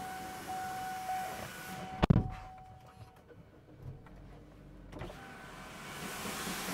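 Power window motor running on a used car at a dealership lot, a steady mechanical whir with a couple of sharp clunks as the glass moves, close by and fairly quiet with no talk.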